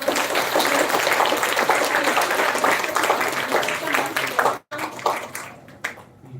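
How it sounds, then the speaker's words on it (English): An audience at an International Women's Day celebration at RVIM applauds a guest with loud, sustained clapping that breaks off abruptly, then returns thinner and more scattered as it fades. "Can we have a good round of applause"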